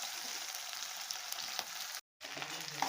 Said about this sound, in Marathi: आता भेंडी घालून घेऊया।